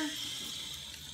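Lukewarm water runs steadily from a tap for scrubbing pineapple rind, a continuous close hiss of flowing water with no voices.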